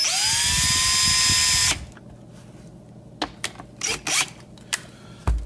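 A power drill whines as it drives a screw into a pre-drilled hole while building a custom side-by-side rig, one long loud run that stops, followed by several short clicks and bursts of handling noise.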